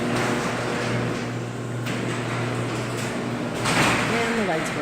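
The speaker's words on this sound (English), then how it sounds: "Garage doors work." Residential garage door running on its opener during a move-out walkthrough, a steady motor hum with rumbling panel movement throughout and a rattle near the end.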